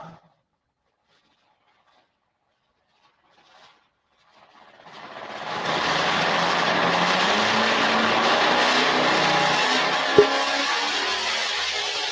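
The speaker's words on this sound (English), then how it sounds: "The Duramax powered truck." A Duramax-powered pulling truck at a truck pull event roars up from near silence into a loud, sustained diesel drone that holds steady, with one brief thump partway through.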